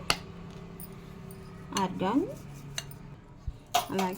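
A spoon stirs and clinks against a bowl while mashing avocado with pepper, salt and chili powder. It gives a few close, bright taps and scrapes spread across the moment, with a voice talking over them.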